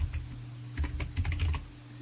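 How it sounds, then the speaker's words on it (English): Typing on a computer keyboard: a short, close burst of quick key clicks in an uneven rhythm over a low steady hum, with no voices. "we're going to do this by typing in function"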